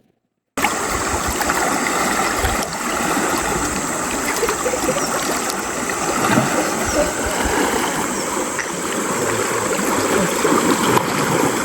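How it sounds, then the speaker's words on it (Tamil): A river flows and splashes steadily close by, a continuous rushing wash with small splatters, amid natural outdoor surroundings in Brunei. "இந்த பேக்ரவுண்ட் சவுண்டை கேட்டு பார்த்தீங்களா அப்படியே பூச்சிகள் பறவைகளோட சவுண்டு இந்த தண்ணி சவுண்டு"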